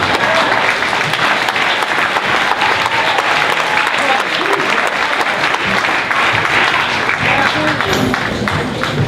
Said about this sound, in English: Again, giving the youngsters a round of applause.